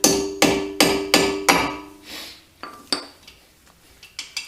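Metal tapping on brake pad retention pins on an Aston Martin V8 Vantage: a quick run of five ringing hammer strikes, then lighter, scattered metallic clinks, close by.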